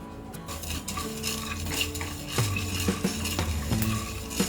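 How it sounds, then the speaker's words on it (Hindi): Fenugreek seeds are dry roasted in a pan, giving a busy, close rattle of stirring and metal scraping with faint sizzling and a few sharper clinks, all without voices. "इसे 2 मिनट तक ड्राई रोस्ट कर लेंगे।"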